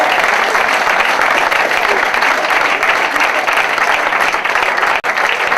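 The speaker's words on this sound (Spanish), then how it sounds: "Les damos un aplauso." A seminar audience at a trade union training session breaks into sustained, dense applause, a steady wash of many hands clapping together at full strength for several seconds.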